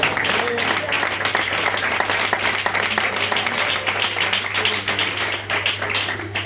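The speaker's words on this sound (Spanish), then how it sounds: "Fuerte el aplauso si es para nuestro Dios." Church congregation applauding during a sermon gathering, steady dense clapping from many hands over a low hum, loud and continuous throughout.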